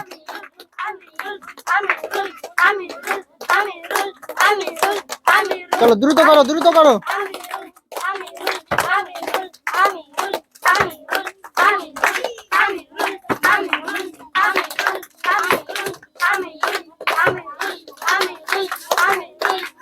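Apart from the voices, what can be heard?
people clapping during bottle flip challenge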